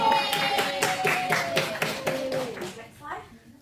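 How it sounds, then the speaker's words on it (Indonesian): Students in a vocational-school accounting class clap their hands in a quick, ragged burst of applause that fades out after about three seconds. Voices chatter over it. "Tepuk tangan dong."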